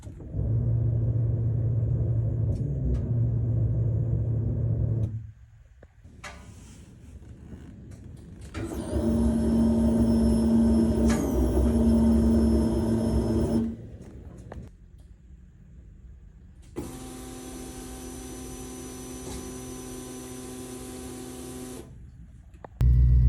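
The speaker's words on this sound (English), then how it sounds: "I want you guys to hear what the noise the pump was making prior to me replacing it." A failing fuel pump on a truck with a Holley Sniper EFI 2 system makes a steady rumbling hum with a raspy whine. It runs in stretches of several seconds, broken by brief quiet gaps.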